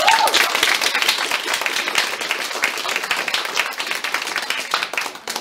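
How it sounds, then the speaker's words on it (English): A live audience gives a sustained round of applause at a workplace mental health event, dense clapping filling the whole stretch at an even level with an early brief tone. "So can we give her another round of applause?"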